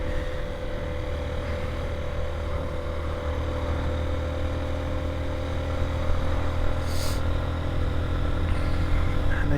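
Honda CB125F motorcycle ridden in fourth gear toward a corner going uphill, a steady, close engine drone with a constant note and a faint rise in level near the end, no speech.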